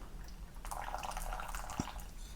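Water trickles and splashes steadily into a pour-over filter over Costa Rican coffee grounds, a continuous liquid pour with one soft drip standing out near the end.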